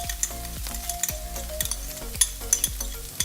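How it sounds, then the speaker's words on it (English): Onions frying and sizzling in a pan for a beef macaroni sauce, a steady close sizzle with repeated scrapes and clinks of stirring, no voices. "I'll put in the rest of the onions."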